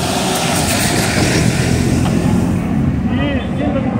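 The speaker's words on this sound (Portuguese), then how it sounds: "Um avião." An airplane passes overhead in Rio de Janeiro, a loud broad engine roar that washes over traffic and street noise, with people talking underneath.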